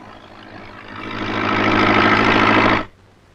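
A tractor engine idles close by, a steady low rumble that swells in loudness over the first two seconds, holds, then cuts off abruptly near the end.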